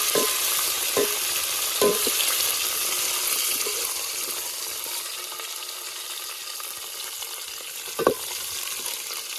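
Spices, curry leaves and red chilli being stirred in a frying pan for Gujarati kadhi, a steady sizzle running throughout with a few sharp scrapes and clinks of the spoon against the pan.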